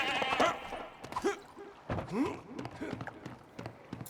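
Sheep bleat repeatedly inside the LEGO The Hobbit video game, wavering cries rising and falling amid game sound effects and soft thuds, with a player's voice talking at times.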